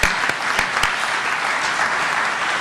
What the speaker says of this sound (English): Can we give everybody one more round of applause